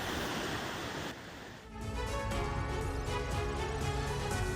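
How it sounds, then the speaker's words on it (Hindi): Flash floodwater rushing through Windhoek, Namibia: a continuous loud roar of churning water with broad surging noise throughout, briefly dipping before swelling back up, no voices heard. "विंडहॉक की तस्वीर है जहां पर अचानक से फ्लैश फ्लड यानी कि सैलाब बहता हुआ नजर आ रहा है।"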